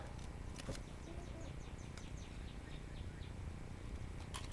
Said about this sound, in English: Can you guys hear the bird? He's right outside the window.